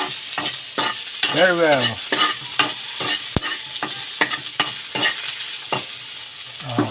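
Onion sautés in a pan, with a constant sizzle broken by repeated scraping stirs and one sharp metallic clack; a voice speaks briefly over the cooking.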